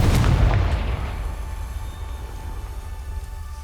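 A Confringo spell blasts in Hogwarts Legacy, a heavy booming explosion at the start that rumbles and fades into a low lingering roar.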